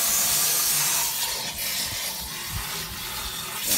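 Tap water runs in a steady, close hiss while the inside of a tiger squid tube is rinsed, with a few soft splashes and no pauses.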